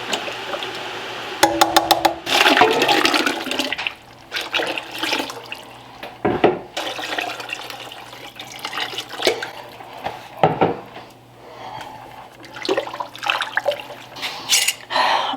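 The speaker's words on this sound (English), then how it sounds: "And I'm gonna mix some more of this broth in." Broth is poured into a big pot of gumbo roux, giving splashy, gurgling liquid sounds in uneven bursts with clinks and stirring noises, close and moderately loud.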